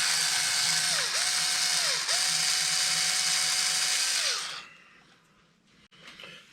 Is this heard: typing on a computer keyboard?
no